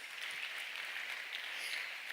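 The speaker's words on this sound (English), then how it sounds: "I'm going to ask all of you to give him a big round of applause." Faint, distant applause from an audience at a community reading challenge final, a soft continuous patter with no voices over it.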